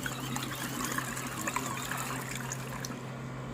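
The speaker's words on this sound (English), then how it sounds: "So as you can see, it's starting to agitate these 2 clothing items." A Temu mini washing machine agitates two pieces of clothing, giving a steady sloshing, trickling churn of water with a low motor hum underneath, continuous and fairly close.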